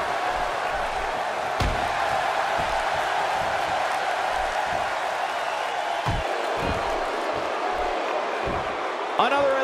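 A SmackDown wrestling crowd roars with steady noise throughout, with ring slams and thuds rising above it and a commentator talking over the din.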